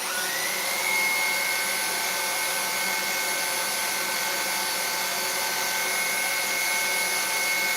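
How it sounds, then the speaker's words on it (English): A Dyson vacuum cleaner being tested for suction runs with a loud, steady, unbroken whirring drone from start to finish, close by with no talking. "Has the Dyson maintained good suction? Here's a demonstration of how long it will last."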